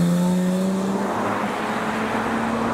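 Lexus IS200 leaving a car show at a business park roundabout, engine note rising and falling as it drives off, loud and close throughout.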